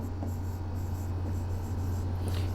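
Brief scratchy squeaks of chalk or marker writing on a classroom board during a geography lecture, close and fairly quiet over a steady low hum, no voice.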